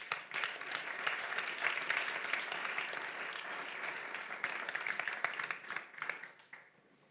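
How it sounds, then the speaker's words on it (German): An audience welcomes a guest to the stage with warm, sustained applause, dense clapping holding steady for several seconds before tapering off at the end. "geben wir ihm doch einen Applaus."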